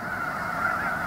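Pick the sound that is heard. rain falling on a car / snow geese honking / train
snow geese honking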